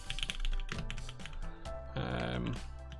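Fingers typing on a soldered ISO 65% mechanical keyboard with black switches, quick clacking keystrokes in uneven bursts, fairly close, with a voice talking alongside.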